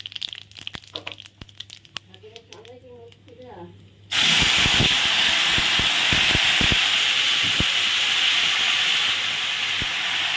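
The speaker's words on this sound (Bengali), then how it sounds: "ফোড়নে আমি এখন দিয়ে দেবো টমেটো পেস্ট" Tomato paste hits a hot tempering of cumin, dried red chillies and oil, bursting into a loud, steady sizzle and hiss that holds to the end, after a quieter opening with a voice speaking.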